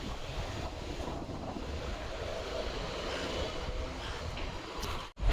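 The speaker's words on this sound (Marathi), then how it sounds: "काय गार हवा सुटली नुसती डेंजर एकदम." Cold wind blowing across a terrace, a steady, full rushing roar buffeting the microphone throughout, ending with a brief dropout.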